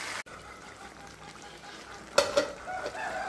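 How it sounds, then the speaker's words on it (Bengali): Mutton being stirred and fried in a pan for kosha, a steady low sizzle with a sharper burst of scraping and clatter from the spatula partway through. "উল্টো পাল্টে সুন্দর করে কষিয়ে নেব।"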